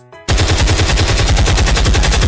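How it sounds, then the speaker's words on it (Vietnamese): Rapid cartoon gunfire from a kitten-versus-robber short: a loud, continuous machine-gun burst of tightly spaced shots that starts abruptly after a brief tone and keeps going at an even rhythm. "Mẹ ơi nó có súng."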